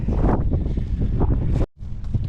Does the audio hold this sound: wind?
yes